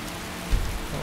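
Rain falls steadily in the Skyrim video game on a campsite with a tent, an even hiss of drops on surfaces and a soft low thump near the middle.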